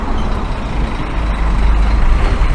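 A heavy truck passes on a nearby road outside a UK site, its low engine rumble building steadily in loudness over a couple of seconds, close and with no talk.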